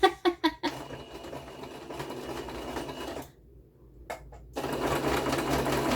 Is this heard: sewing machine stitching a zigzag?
yes